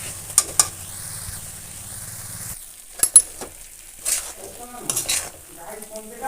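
A spatula scrapes and stirs coconut filling in a pan for Bengali pitha. Sharp scrapes and taps come in short bursts between quiet gaps, with a faint low sizzle early on.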